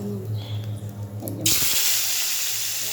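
Whole spices tempered in hot oil, a chandni phoron, burst into a sudden loud, steady sizzle that runs on continuously after a quieter moment of low kitchen hum.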